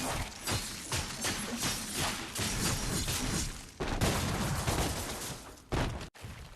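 Ricochet gunfire from Ebony and Ivory, twin pistols in DmC: Devil May Cry, comes as a dense, continuous rattle of rapid shots with a few sharper bursts, ending in a sudden cut.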